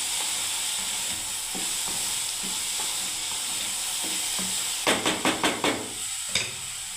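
Okra frying in a pan sizzles in a steady hiss, with a burst of quick clattering stirs near the end.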